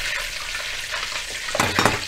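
Chicken pieces flash-fry in hot oil for Malaysian ayam percik, giving a continuous crackling sizzle near the pan, with a brief clatter of stirring toward the end.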